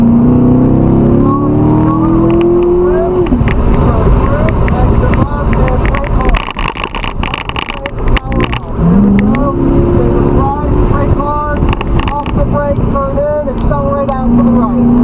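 A Corvette C7 accelerates at full throttle on a track, its engine roaring loud and close from inside the car, rising in pitch through the gears while an instructor talks over it.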